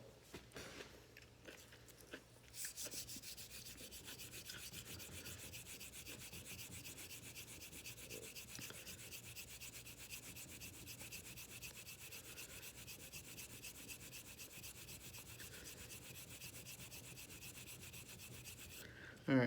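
Straight razor, a Filarmonica 13 Doble Temple, being bevel-set on a sharpening stone: steady, continuous rhythmic scraping strokes, close and fairly quiet, running unbroken after a brief softer start.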